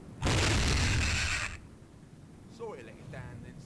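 A broad, loud explosion blast in the video game Hogs of War, roaring for over a second before cutting off, followed by a talking voice.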